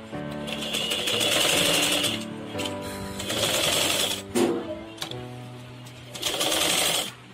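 A sewing machine stitching fabric in three runs of rapid mechanical whirring, each lasting a couple of seconds with brief pauses between, close and clear with no talking.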